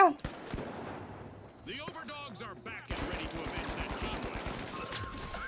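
Rapid bursts of automatic gunfire and shots crackle in the shooter game THE FINALS, a sparse opening followed by a dense sustained stream of fire, with people talking over the action.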